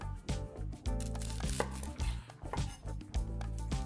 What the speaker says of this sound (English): Now our onion, we're just going to roughly chop.